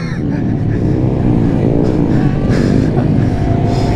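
A small Grom motorcycle revs hard and steadily during a wheelie, a loud, close, continuous engine drone with wind rush and a brief voice underneath.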